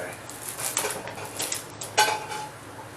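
A metal pot lid is shifted in a home kitchen with a few close clinks and clatters, one sharper knock near the end, fairly quiet and with no talk.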